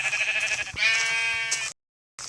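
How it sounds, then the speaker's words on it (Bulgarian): Sheep in the video game Minecraft give two close, loud bleats one after another, then a short silence before another sound begins. "овце, бързо, Мега"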